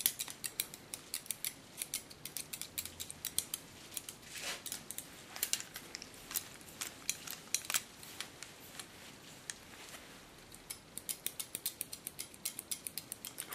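Close, crisp scissor snips cut short hair freehand in rapid irregular runs of metallic clicks, with brief pauses between the bursts and no voices.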